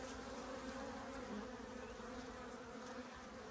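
A dense, steady hum of many honeybees buzzing close by, continuous and unbroken throughout.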